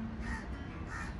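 Crows cawing in Egypt at a Sharm el-Sheikh resort, two harsh caws a moment apart at moderate distance, alone without talk.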